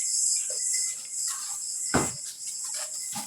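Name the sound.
bee buzzing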